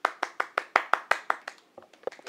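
Hand claps at a talent show, a dozen or so sharp, evenly spaced claps close by, thinning into a few softer scattered claps at the end.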